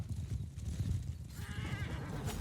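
Horse hooves clip-clopping with a whinny in the Mount and Blade 2 Bannerlord video game, a steady low hoof rhythm under a brief neigh rising near the end, with no talk.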